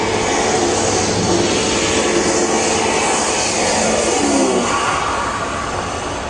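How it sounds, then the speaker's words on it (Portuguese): Agricultural crop-spraying airplane flying over a coffee field, a loud steady engine drone filling the whole stretch with a gentle pitch shift as it passes, easing off slightly at the end. "O avião começa a trabalhar."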